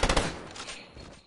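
Rapid burst of gunshots from a Fortnite weapon in creative mode, loud and clustered at the start, then trailing off into decaying echo and game noise with no talking.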